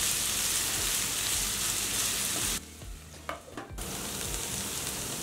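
Onions softening in a hot pan fry with a steady, dense sizzle while being stirred, the hiss briefly dropping and scraping as the pan is worked, then returning to a full crackle.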